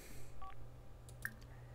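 Phone interface beeps and clicks from The Sims 4 as a character checks a phone, a couple of short electronic tones over a low steady background hum.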